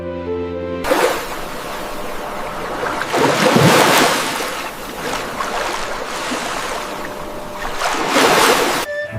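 Cartoon sea waves rolling and washing continuously under a steady windy wash, swelling louder in a few places, with no voices over it.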